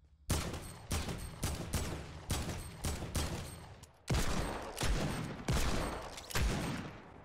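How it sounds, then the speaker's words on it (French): Video game target practice with a Desert Eagle, a revolver and an AK: loud, sharp gunshots fire in an uneven string of about a dozen, some in quick pairs and bursts, each with a short ringing tail, no talking. "je prends un deagle, un revolver, ainsi qu'une AK, et je m'entraîne à tirer sur les cibles"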